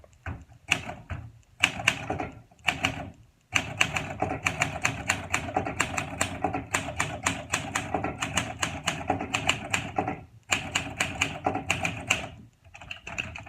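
Crisp mechanical clatter of a 1958 Olympia SM3 Deluxe manual typewriter being typed on: bursts of rapid keystrokes separated by short pauses, close and loud with no voices.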